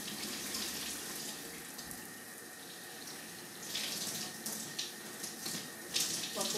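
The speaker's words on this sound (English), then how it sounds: "I'm gonna wet down my hair with warm water." Steady rush of warm shower water pouring and splashing over hair, with brighter spattering bursts toward the end; no voices.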